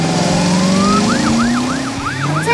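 A police car siren in a vehicle cartoon animation, starting with a rising tone that gives way to a repeated wailing yelp cycling about five times, loud and clear with no talking.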